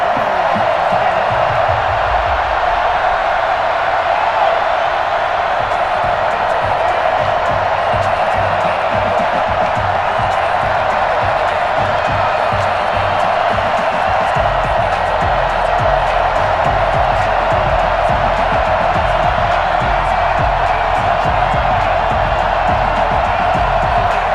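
A stadium crowd at FedEx Field roars in Madden NFL 21 as the San Francisco 49ers face the Washington Football Team, a dense, steady wall of cheering that holds loud and unbroken throughout.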